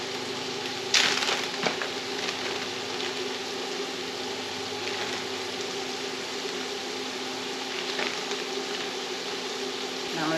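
Shrimp sizzle steadily in a hot pan, a constant crackling hiss close by with one brief clatter near the start as they go in.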